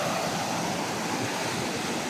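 Strong, swirling river water rushing past nearby, a loud steady broadband roar with no pauses.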